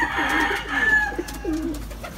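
Young pigeons at a loft giving soft, low cooing calls, a few murmured coos close by over a steady low background hum.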